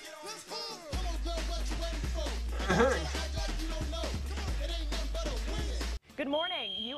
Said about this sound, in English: we have a fire drill going on right now. You can hear that blaring in the background.